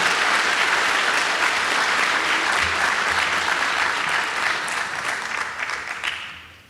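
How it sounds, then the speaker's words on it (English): A college lecture audience breaks into full, steady applause that holds strong for several seconds and then fades out near the end. "give a round of applause to yourselves"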